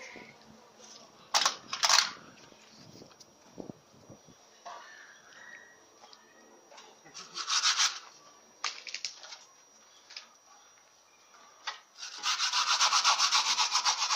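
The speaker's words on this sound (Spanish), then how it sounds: "Aquí las, están dando una lijada" Intermittent abrasive sanding against red brick columns, in short bursts and then a longer continuous stretch, close by.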